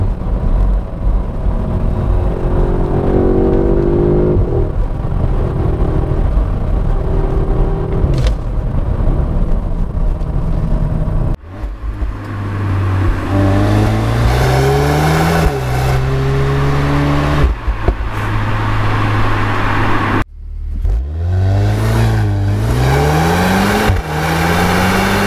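An Audi S3 engine revs repeatedly while driving, rising and falling through several loud climbing pulls with brief pauses between gear changes, sustained and close throughout.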